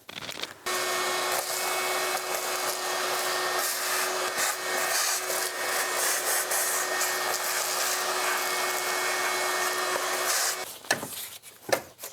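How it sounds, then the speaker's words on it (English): A vacuum cleaner sucks up debris from a 1998 Jeep Grand Cherokee 5.9L engine, running steadily for about ten seconds with a constant whine and rushing airflow, then cuts off amid a few clunks. "I'm gonna vacuum that up and then we'll take off the valve cover."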